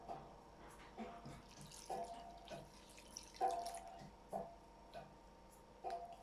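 A washcloth dipped back into a bowl of water during a gentle facial routine, giving soft, quiet splashes and drips that recur every second or so, close and faint with no voices.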